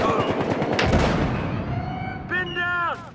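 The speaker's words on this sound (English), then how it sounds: "Grenade going out." Gunfire and a blast ring out during a Battlefield Hardline firefight, with dense shots and a sharp burst up front, then a rising tone near the end while voices talk over the action.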